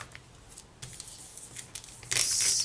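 A plastic bag being handled and smoothed over polymer clay cane work, producing soft rustling and crinkling. A brighter burst of crackling plastic comes near the end.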